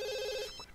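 Short electronic telephone ring from the video game The Sims, a single bright warbling trill lasting about half a second before cutting off, heard alone.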